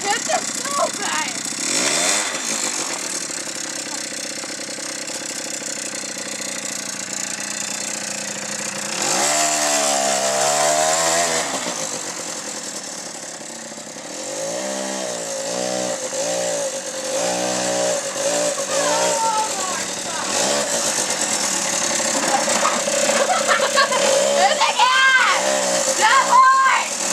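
A 90cc Koplin engine cold-starts and then runs with a raspy, buzzing two-stroke-like drone, revving up and down repeatedly, loud and close throughout.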